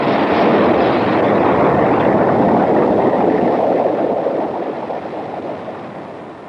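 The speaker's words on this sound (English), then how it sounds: "A second successful 5-engine firing was held on May 6th, this time for 15 seconds." Five-engine static test firing of a Saturn V S-1C rocket stage on its test stand, a loud continuous broadband roar that holds steady, then gradually fades toward the end, with no voices.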